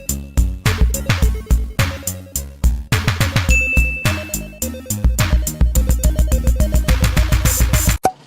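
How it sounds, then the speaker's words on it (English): Rapid repeated ringing strikes of a bell, loud and close in a quick steady rhythm for several seconds, then stopping abruptly. "Spencer's driver rang the bell again."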